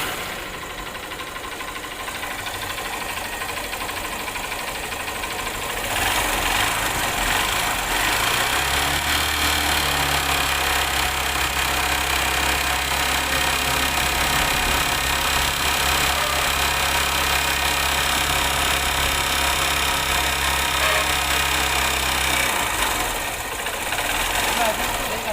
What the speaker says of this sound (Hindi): इसमें पिस्टन साउंड है, साथ में टाइमिंग चेन का साउंड है